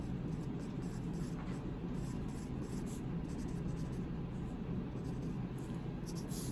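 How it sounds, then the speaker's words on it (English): Pen or pencil writing an answer by hand during a physics problem on the sun's size, a soft continuous scratching under a steady broadband background hiss, no talking. "I'll write it down here for you if you want to have it in both places."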